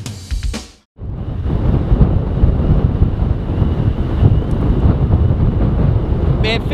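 Strong wind roars against the microphone while fishing with a bobber from a boat, a steady loud rushing gust that cuts in after a brief break and continues throughout, with a voice audible at the start.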